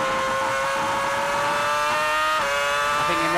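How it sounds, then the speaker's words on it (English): A Formula One car at the 2006 British Grand Prix changes down a couple of gears on entry to Stowe, a loud, high-pitched engine whine that drops in pitch with each downshift. "Just go down a couple of gears."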